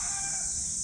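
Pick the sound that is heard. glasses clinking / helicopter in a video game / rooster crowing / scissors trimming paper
rooster crowing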